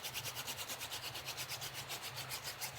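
A wooden hand drill spins rapidly back and forth on a fireboard in an even, repeating rub, each stroke giving a soft friction swish, faint and alone.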